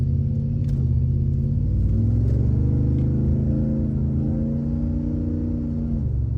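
A car engine rumbles and revs, pitch climbing steadily as it accelerates, heard from nearby, with a deep continuous drone throughout.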